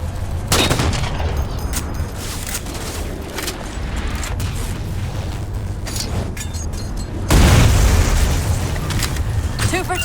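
Heavy gunfire and booming blasts from a Halo 4 firefight rumble loudly and continuously, with a sharper burst of explosion near the end; game voice chatter sits faintly in the mix.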